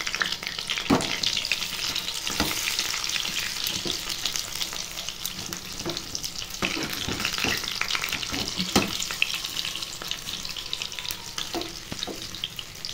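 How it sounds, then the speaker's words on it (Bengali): Cauliflower pakoras fry in oil with a continuous bubbling sizzle, broken by sharp clicks and scrapes of stirring at irregular intervals. "এদিকে ফুলকপির পকোড়া করে নিচ্ছি ভাতের জন্য"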